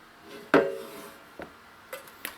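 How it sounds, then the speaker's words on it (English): A cooled tres leches cake is flipped out of its baking pan: one sharp clunk of the pan against a surface, then a few lighter knocks and taps, close by and otherwise quiet. "Once the cake has cooled down, go ahead and invert it."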